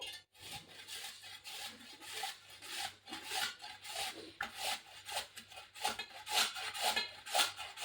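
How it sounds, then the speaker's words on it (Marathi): Peeled potatoes are rubbed against a hand grater in a home kitchen, making a steady stream of close, rasping scrapes with a repeated back-and-forth rhythm and no talking. "ही किसणी आहे याच्याने आपल्याला हे बटाटे छान असे किसून घ्यायचे आहेत एकसारखे"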